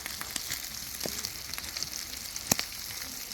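Lamb kokoreç cooking on a sac griddle gives a steady, close crackling sizzle with small sharp pops and one louder snap, and no one talks.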